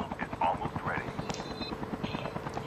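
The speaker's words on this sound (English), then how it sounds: "there is a chopper" Helicopter in a battle royale video game, a steady rotor chop running throughout under near, continuous talk and game sounds.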